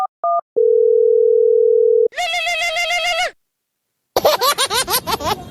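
Telephone dial tone: a short double beep, then a long steady tone, followed by a ringing melody and a burst of whinnying, giggly sounds, all loud and close.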